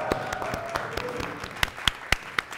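Audience applause at a Korean rap competition show, a thin scatter of claps that grows into several sharper, louder hand claps toward the end, with a faint voice beneath.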